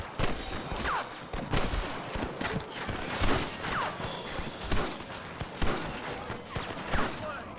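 A Western video-game shootout as John Marston guns down rustlers, with repeated sharp gunshots in irregular volleys, some echoing, mixed with shouted voices.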